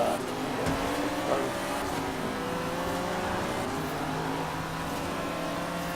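Alfa Romeo 4C rallycross build driving in Forza Horizon 3, a steady engine drone with shifting revs and faint tire noise, continuous and fairly close.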